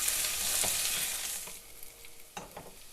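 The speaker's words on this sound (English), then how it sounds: "fry this till the onions are lightly golden brown" Onions with salt frying in a pan, a loud hissing sizzle at first that eases off, with a few scraping stirs near the end, close up and without talk.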